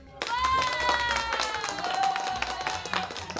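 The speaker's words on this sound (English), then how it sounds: "I accidentally hit my own applause button." Canned applause from a studio applause button bursts out over steady harmonic tones, a few seconds of clapping with a voice speaking over it.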